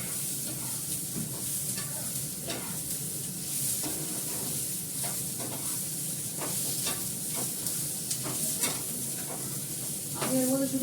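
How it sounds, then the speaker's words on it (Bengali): Onion frying together with potatoes in a pan, a steady close sizzle with repeated scraping stirs at an irregular rhythm, continuing throughout without talk. "আমি পেঁয়াজটা আলুর সঙ্গে দিয়ে ভাজছি"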